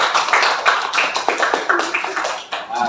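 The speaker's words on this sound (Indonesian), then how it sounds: "Tepuk tangan ya." A group claps together after a child's Quran recitation at a school performance session. The applause is dense, steady and fairly loud, with overlapping hand claps running throughout and no talk over it.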